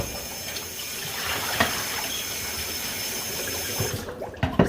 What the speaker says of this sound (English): So I'm going to be washing the meat.